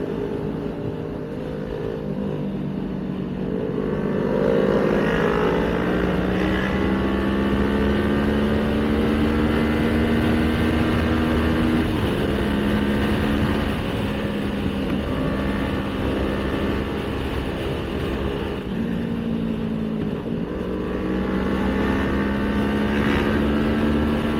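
Yamaha R6 sport motorcycles roar past on a ride, their engine notes loud and sustained, rising and shifting through revs over about twenty seconds.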